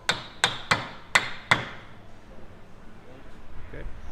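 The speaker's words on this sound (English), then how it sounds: "Rubber hammer here." A rubber hammer knocks an aluminium pivot door profile five times in quick succession, sharp close taps about a third of a second apart, followed by quieter workshop room noise with faint movement.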